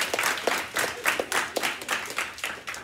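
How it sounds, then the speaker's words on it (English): High school students clapping in a Burke High School classroom in Charleston, South Carolina, a loose rhythmic patter of hands with distinct repeated claps at an even pace, fairly close and moderately loud. "Matter of fact, y'all, just clap for everybody."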